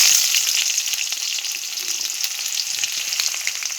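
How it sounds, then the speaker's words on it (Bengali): Chopped onion hits hot oil with lightly fried mustard seeds, giving a loud, steady broadband sizzle that holds throughout with faint crackles and no voices. "এবারে দিয়ে দেবো পেঁয়াজ কুচি"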